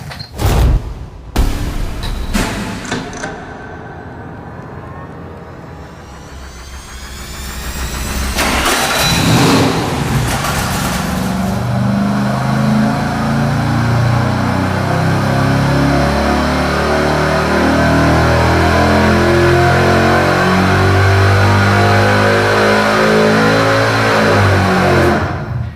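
A dyno-mounted V8 cranks and fires up through 3-inch exhaust with Hooker mufflers and a long extension pipe after 1 5/8 inch headers, then revs and holds a loud, steady roar close by.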